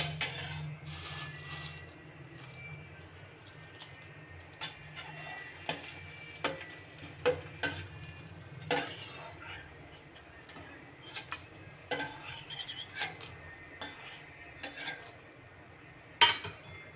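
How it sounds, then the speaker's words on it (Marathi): Homemade potato chips fry in oil, a quiet sizzle broken by frequent light clinks and taps of a utensil against the pan, with no voices. "आता मी तळून घेते तर बघा भाजून फ्राय करून घेतले आहेत मी"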